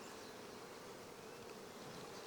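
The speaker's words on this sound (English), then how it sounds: "Blow on the bees and they start to walk out of the way." Steady, soft buzzing hum of honey bees crowded on hive frames during an inspection of a queenless hive, a continuous close drone with no voices.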